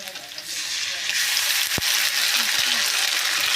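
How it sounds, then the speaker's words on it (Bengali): Ginger and garlic paste fries in a hot pan, giving a continuous close sizzle with a few scrapes and knocks as it is stirred, and no one speaking. "ভালো করে একসাথে ওগুলা ভেজে নিব।"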